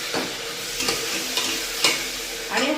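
Ground paste of onion, coconut, ginger and garlic hits hot oil in a pan with curry leaves, giving a steady sizzle with a few sharp bursts of spatter and stirring scrapes, close and alone.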